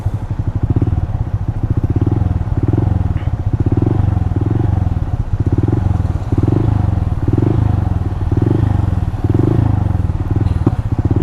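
A Honda Monkey Bike motorcycle rides steadily past in Leigh, its small engine giving an even, throbbing drone with a regular pulsing beat that holds loud and close throughout.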